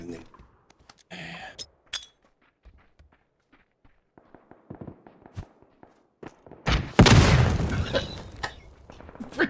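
A grenade blast in the battle royale game PUBG erupts as a loud, close burst with a rumbling tail, coming after quieter footsteps, shuffling and short vocal sounds.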